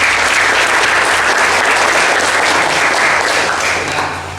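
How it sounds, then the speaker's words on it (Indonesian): A classroom of automotive engineering students bursts into steady, dense applause that holds loud for several seconds before tapering slightly at the end. "Kasih aplaus untuk kita semua."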